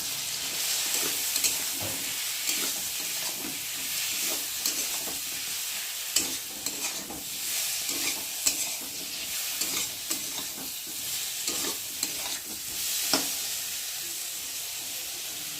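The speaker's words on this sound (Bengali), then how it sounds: "আর দেবো একটু আদা বাটা দিয়ে মশলাটা ভালো করে কষিয়ে নেব" Turmeric, cumin and ginger paste sizzle in a pan while being stirred, with repeated scraping strokes over a steady bright hiss of frying.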